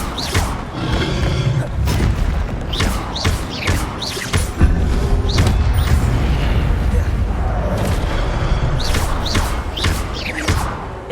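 Fiery blasts and booming impacts from an Incendio fire spell in Hogwarts Legacy, a steady dense roar of bursts and thuds running loud throughout with sharp crackling flares, battle sounds layered over it.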